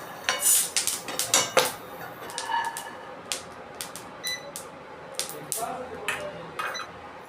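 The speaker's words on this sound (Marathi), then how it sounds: "आता आपण हे शेंगदाणे प्लेटमध्ये काढून घेऊया" Roasted peanuts scraped and tipped from a pan onto a plate, giving a run of light metallic clinks and scrapes, louder at first and then sparser, with no talk.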